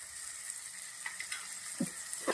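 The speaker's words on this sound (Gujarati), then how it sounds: "હવે સરસ મજાનું મિક્સ કરી દેશું ને 5 મિનિટ સુધી ધીમા તાપે ડુંગળીને સરસ મજાની શેકી લેશું" Onions sizzle gently in a pan over low heat, seasoned with salt and turmeric for a Rajasthani rajwadi sabji, a soft steady hiss with a few faint clinks of stirring.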